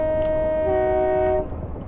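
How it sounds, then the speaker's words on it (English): A two-tone horn sounds on an SWT Class 456 electric train in the video game Train Simulator 2015, one loud sustained blast about a second and a half long over a steady running rumble, then cutting off. "I'll do a little whistle up here coming up forward."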